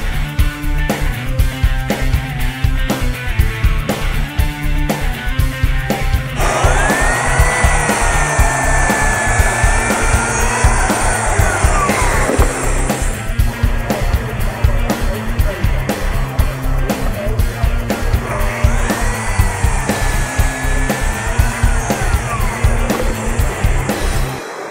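A Mafell MF26CC power saw fitted with three blades whines loudly through sheet material in two long cutting passes, over the constant hum of the motor.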